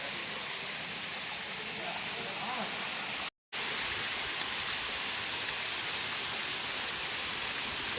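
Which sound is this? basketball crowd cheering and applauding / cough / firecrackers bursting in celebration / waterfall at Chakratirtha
waterfall at Chakratirtha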